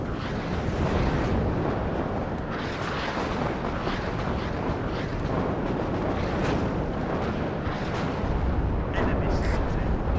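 Massed artillery barrage in WARNO, a dense continuous rumble of overlapping booms and blasts filling the whole stretch, loud and unbroken, with wind-like roar underneath.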